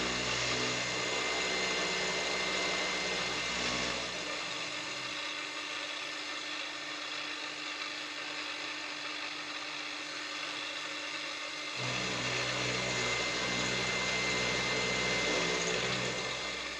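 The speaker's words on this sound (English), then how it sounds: "You can hear a little bit of vibration." A milling cutter works on a rotary table, a steady machine whir with a faint vibration running throughout, its tone dropping lower in the middle before rising again, with no talking.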